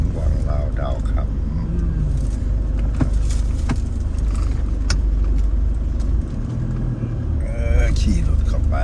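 A vehicle rides into the grounds of the Lao Dao Kham palace garden, its engine a steady close rumble running throughout, with a voice talking over it.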